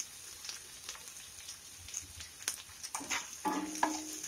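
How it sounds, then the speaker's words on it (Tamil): Chopped onions sautéing in a pan for a vegetable poriyal give a faint, low sizzle, broken by a few soft stirring scrapes and clinks that grow busier toward the end. "இப்போ வெங்காயத்தை ஓரளவு நல்லா வதக்கிடலாம்."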